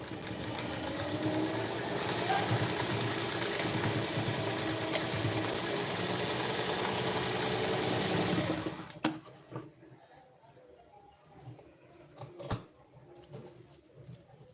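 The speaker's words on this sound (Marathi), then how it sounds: "आता आपण परत एक शिलाई मारून घेऊ" A sewing machine runs steadily for about nine seconds while stitching the shoulder seam of a size-34 princess-cut blouse, a continuous close whirring that stops abruptly, leaving a few faint clicks and handling noises.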